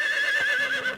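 A horse in Medieval Dynasty gives a single loud, close, shrill whinny lasting about a second, with a faint hoof thud underneath.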